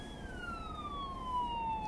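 An emergency vehicle siren from the Long Lake Fire Department passes by, its wailing tone sliding steadily downward in pitch over a low hum of road noise, fairly faint and with no talk over it.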